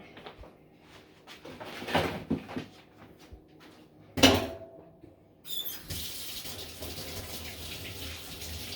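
A kitchen tap runs while someone washes their hands during spaghetti and meatball preparation: clattering and handling noises come first, then a loud splash, then a steady close hiss of flowing water that carries on to the end.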